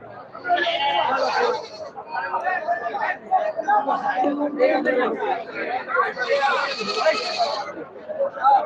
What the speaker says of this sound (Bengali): কত রং বেরঙের এই ছাগলগুলো